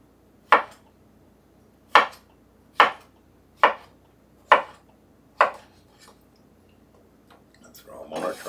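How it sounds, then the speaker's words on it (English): A knife chops fresh cantaloupe into chunks on a cutting surface, giving six sharp, evenly spaced thuds close by, then a few lighter taps and some rustling handling noise at the end. "And then cut those in nice little chunks."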